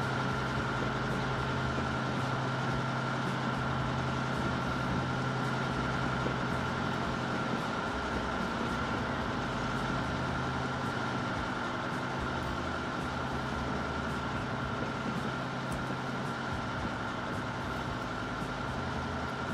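A steady, droning train engine hum in the game Transport Fever runs without a break, low and continuous, with no voices over it.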